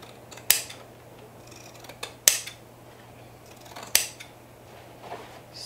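Scissors snip through fabric for a bucket hat, three sharp distinct cuts spaced about 1.5 seconds apart, close and clear against a quiet room with faint small handling noises between.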